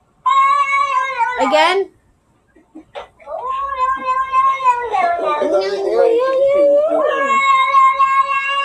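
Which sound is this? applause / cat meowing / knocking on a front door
cat meowing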